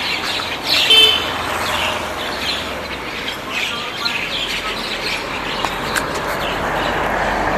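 A flock of common mynas chattering and calling over one another, with steady traffic noise running underneath.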